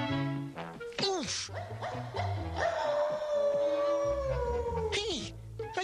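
A cartoon dog barks and howls in a 1985 Muppet Babies episode, a few yips followed by a long drawn-out howl over music and sound effects.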